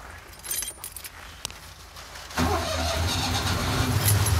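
After a few mechanical clicks and rattles, a Citroën 2CV's small engine cranks and catches halfway through, settling into a loud, steady idling rumble.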